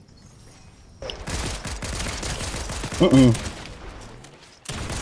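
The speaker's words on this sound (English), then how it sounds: "I've got a shotgun. I don't miss with the shotguns." Shotgun blasts ring out in a multiplayer video game, a brief burst of gunfire amid background game noise and a short murmured voice.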